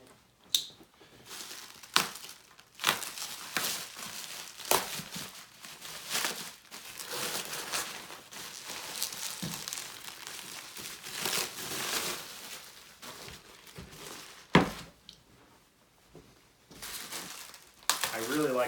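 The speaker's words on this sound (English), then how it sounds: "let me grab my knife to cut that." Plastic packaging on a motherboard box crackles and crinkles as it is cut and pulled away by hand, irregular close bursts of crushing and tearing with brief pauses, and a voice speaks at times between them.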